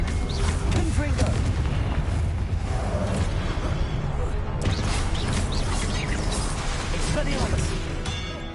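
Blasting explosions from the Confringo spell in the video game Hogwarts Legacy, heavy rumbling booms and crashes layered with battle effects, with a voice talking over the noise throughout.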